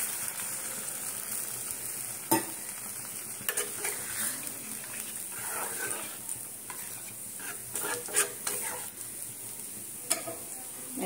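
Lentil fritters (bora) fry in a simmering curry, with a steady, close sizzle running throughout and occasional sharp clinks and scrapes as a utensil stirs against the pan.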